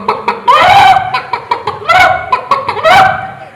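Human voice mimicking chickens clucking and squawking as they are fed, performed as mimicry at a state school arts festival: three loud, close bursts of rising, cackling calls with short choppy clucks between them.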